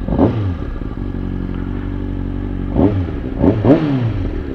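Kawasaki Ninja ZX-6R sport bike engine running steadily at close range, with a few short throttle blips rising and falling over the idle drone.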